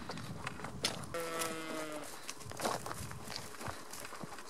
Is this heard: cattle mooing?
yes